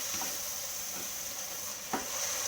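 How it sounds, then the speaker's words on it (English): Leek risotto sizzles gently in a pan while being stirred, with a steady hiss and a few soft scraping strokes and one light tap, close and quiet. "the key now is just to keep stirring the risotto"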